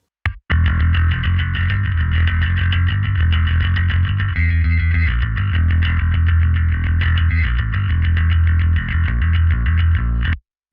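Metal bass guitar played through two stacked distortion plugins, giving a thick, heavily saturated, buzzing tone that sustains loud and steady for about ten seconds with rhythmic picked notes and no talk.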